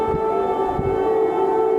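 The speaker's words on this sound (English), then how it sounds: "An air raid siren blares amid a Russian drone attack on the Ukrainian capital." An air raid siren wails loud and steady over the Ukrainian capital, Kyiv, during a Russian drone attack, one sustained tone with no voices.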